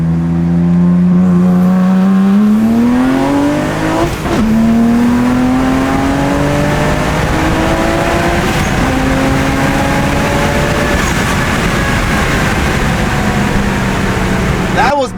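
A tuned BMW 335i with the N54 engine pulls hard in second gear, its loud, close engine note climbing steadily in pitch over the run, easing briefly and then rising again, with voices talking inside the car.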